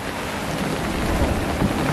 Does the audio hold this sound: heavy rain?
yes